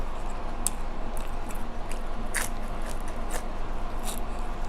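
Close, steady chewing and biting on spicy red ant egg salad with toasted rice, a run of soft crunchy, wet bites repeating over low room noise, no talking.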